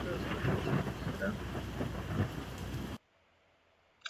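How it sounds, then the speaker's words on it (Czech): Thunderstorm rain in the Roblox game Twisted, a dense steady downpour with low rumbling for about three seconds before cutting abruptly to near silence, a brief click at the end. "tady je už velká bouře"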